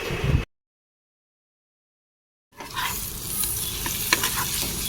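Prawns sauté slowly with spices over a low flame for a Bengali prawn curry, a brief burst of sound cutting to silence, then a close, steady sizzle with stirring scrapes.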